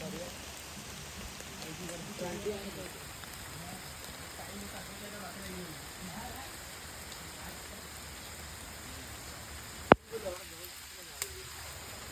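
Steady rain falls throughout on the way to a goddess temple visit, a continuous close hiss with faint murmured voices beneath it and a sharp knock near the end followed by a couple of softer taps.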